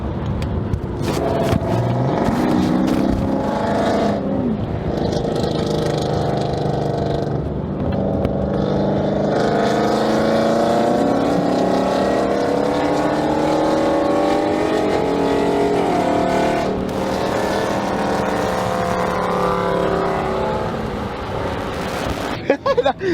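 Hemi V8 fitted with long tube headers roars loudly and continuously, with a deep rumbling exhaust that rises and falls under revs, close to the microphone, while people talk over it.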